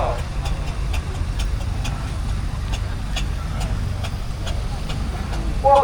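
A steam traction engine runs in the arena at the Broyle country show, a low rumbling drone under an announcer's voice over the loudspeaker, with faint regular ticking beats and a louder swell at the very end.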